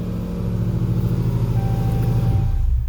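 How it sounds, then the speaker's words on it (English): A RAM TRX Warlord pickup's engine idles nearby with a deep, steady rumble that stays constant and drops away slightly near the end. "And the vehicle is running."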